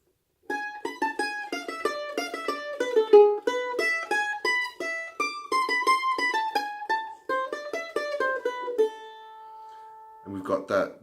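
A mandolin plays a quick, flowing melodic Bach passage of bright single notes, settling onto a held note before a final few plucks.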